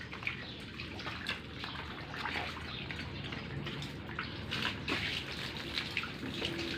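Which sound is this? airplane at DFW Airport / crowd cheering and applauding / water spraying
water spraying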